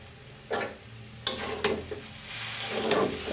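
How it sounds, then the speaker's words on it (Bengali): Maggi masala noodles stirred in a pan with ready-made masala seasoning, giving a few scraping strokes and soft sizzling against a low background hum, moderately quiet with no talking. "এখন নেড়ে চেড়ে আমি অ্যাড করে নিই।"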